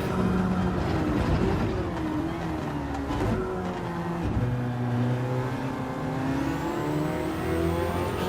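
A race car engine in a sim racing game at the Nurburgring GP accelerates out of a hairpin. A loud, steady, close engine drone rises and falls in pitch as it revs through the gears, with no talking.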